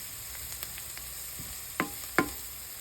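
Onions, garlic and thyme frying in a pan, a faint steady sizzle with small pops and two louder stirring scrapes near the end.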